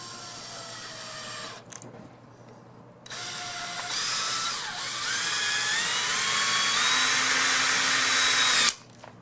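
A power drill whirs in short bursts, then runs steadily for several seconds with a rising whine as a screw bites into a wooden fence post, stopping abruptly.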